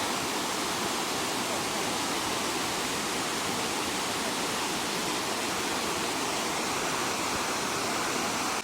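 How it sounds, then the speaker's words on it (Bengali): A waterfall in Shillong, Meghalaya roars as a constant broadband rush of falling water, full and steady from start to finish, with no voices over it. "ওই ওপর থেকে জলটা নামছে,"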